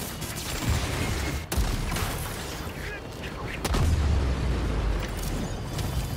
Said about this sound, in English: Anyone mind if I destroy that VTOL?